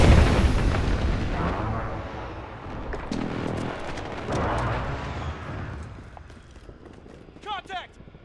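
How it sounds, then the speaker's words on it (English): Heavy rumbling blasts from a friendly precision airstrike in Call of Duty: Modern Warfare, several booming explosions rolling one after another at loud volume and fading, with a brief radio-style voice burst near the end. "Friendly precision airstrike on the way."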